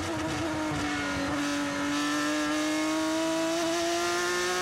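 GP3 open-wheel race cars at the Nurburgring during qualifying, a loud sustained engine whine held steady at near-constant pitch throughout, with a faint rise as the car pulls through traffic.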